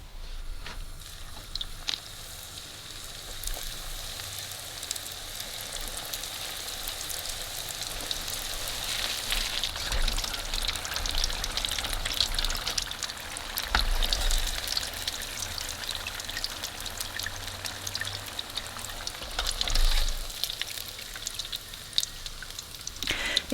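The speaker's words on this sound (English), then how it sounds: "Now let's go ahead and fry it and see how it is." Egg roll deep frying in hot oil, a steady crackling bubbling hiss that runs throughout with small swells and pops, close and moderately loud, no talking.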